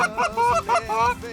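Canada geese honk in a quick run of four or five loud, nasal calls, close and clear, during a goose hunt.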